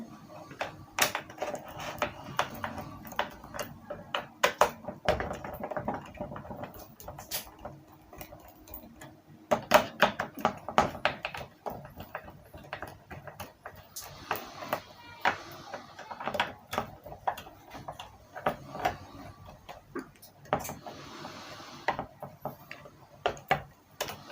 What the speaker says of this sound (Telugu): ఈ 4 స్క్రూలు ఓపెన్ చేసుకోవాలి